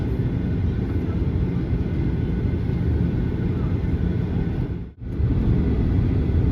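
The cabin of a Rex airliner taxiing at Melbourne fills with a steady, loud engine and rolling rumble, with a brief dip near the end before the drone resumes.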